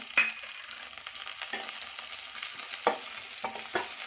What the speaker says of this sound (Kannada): ಈಗ ಕರಿಬೇವು ಹಾಕ್ತಾಯಿದ್ದೀನಿ ಫ್ರೆಂಡ್ ನಾನು